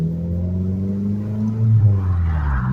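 A boosted car, exhaust leak just repaired, accelerates while driving: a low engine drone rises steadily in pitch, swelling louder near the end.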